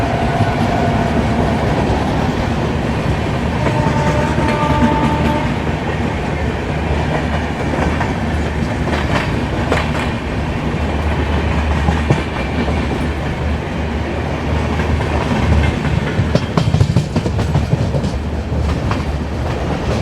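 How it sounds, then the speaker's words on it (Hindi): Heard from aboard a Delhi–Mumbai AC special train near Okhla as the Mangala Lakshadweep Express runs alongside: a loud, continuous rumble and rattle with rhythmic clickety-clack of wheels on rail joints. "बगल से आ रही है मंगला लक्षद्वीप एक्सप्रेस एर्नाकुलम से निजामुद्दीन के लिए।"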